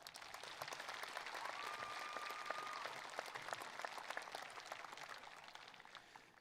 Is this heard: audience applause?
yes